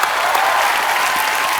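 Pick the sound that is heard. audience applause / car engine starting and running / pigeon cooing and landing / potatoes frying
audience applause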